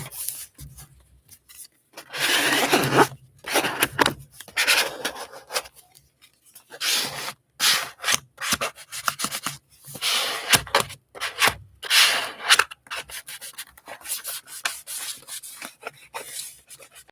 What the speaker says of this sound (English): Got to rub him down real good so he'll stick.